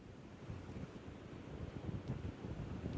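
Wind roars over a rainy Florida beach at Smyrna Beach as Hurricane Irma approaches, a steady low rush with surf-like swells, moderately loud and without voices.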